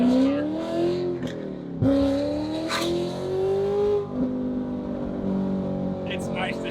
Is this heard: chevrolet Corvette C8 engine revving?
yes